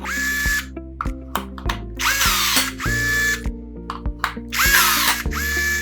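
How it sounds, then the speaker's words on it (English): Rivet gun setting rivets through a white plastic external counterpart into a standard soap dispenser, giving sharp repeated pops in quick bursts with a mechanical whirring between them, close and fairly loud. "The third step is then to rivet these with a rivet gun."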